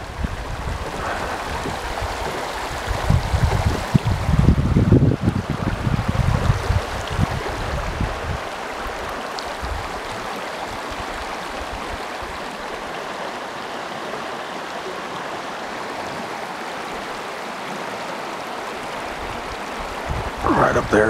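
River rapids rush steadily from a drifting fishing boat, a continuous close wash of flowing water, with a louder splashing or bumping burst early on and a voice briefly present.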